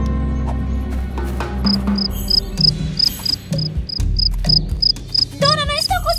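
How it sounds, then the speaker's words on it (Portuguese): Cartoon crickets chirp in short, evenly repeated high bursts over a backing of music and busy sound effects, with a warbling run of chirps near the end. "não estou conseguindo pegar esses grilos fujões"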